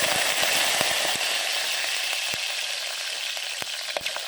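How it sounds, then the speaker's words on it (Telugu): Spices and corn kernels fry in a pressure cooker for vegetable biryani, giving a steady, close, loud sizzle with occasional sharp crackles and pops and no talking. "ఇప్పుడైతే మసాలాలు వేగుతున్నాయి కదా"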